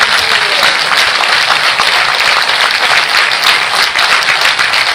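Loud, dense, continuous applause from the audience at an award ceremony for Teelu Rauteli and Anganwadi worker honourees in Uttarakhand, a thick unbroken wash of clapping from start to finish.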